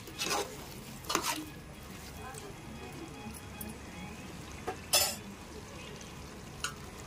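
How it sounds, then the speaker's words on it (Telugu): Chopped tomatoes tipped into a pan of chicken curry and stirred, a few scraping clatters and soft splashes over a low simmering hiss, fairly quiet and close. "ఇప్పుడు సన్నగా కట్ చేసి పెట్టుకున్న టమాటాలు వేసేసుకుందాం."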